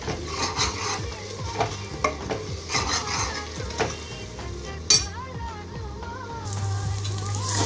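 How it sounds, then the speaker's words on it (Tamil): Mutton masala powder being stirred and fried in a pan for a beef kofta curry produces a loud, continuous sizzle, with rhythmic scraping of a spoon and a sharp clink partway through. "1 ஸ்பூன் மட்டன் மசாலா. இது நல்லா மிக்ஸ் பண்ணி, நல்லா போட்டு நல்லா மிக்ஸ் பண்ணிவிட்டு நல்லா ஃப்ரை ஆகி"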